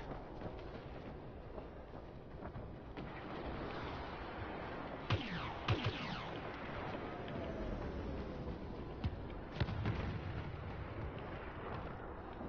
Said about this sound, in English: Vehicle turret.